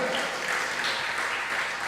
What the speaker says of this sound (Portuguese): Quer dar um lindo aplauso?